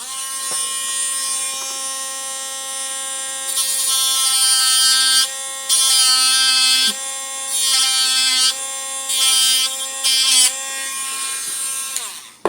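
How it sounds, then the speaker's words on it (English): A Dremel rotary tool shaves down a small toggle switch with a loud, high-pitched whine, rising into harsher grinding bursts whenever the bit bites the metal and easing back between passes, with no talking. "turn my Dremel back on"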